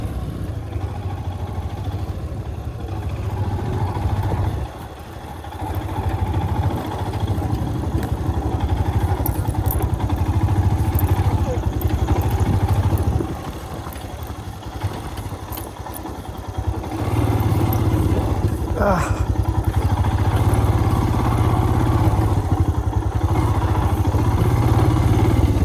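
A motorcycle engine runs loud and close on a night off-road ride near Hessarghatta, Bangalore, holding a steady rumble with brief dips and rises as the bike works over rough ground.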